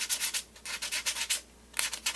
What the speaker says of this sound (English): Very, very lightly sand the top of the surface.